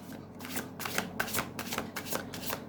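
A deck of oracle cards is shuffled close by in quick riffling bursts, several rapid flutters of cards, each followed by a short pause.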